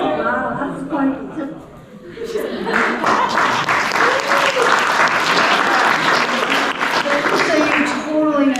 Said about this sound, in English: I was just gonna have them cheer with me, and I thought that was gonna be awesome